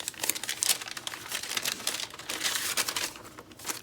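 Vintage airmail envelopes holding film negatives, handled up close so the thin paper crinkles and rustles in quick irregular bursts for several seconds, crisp and fairly loud with no voices.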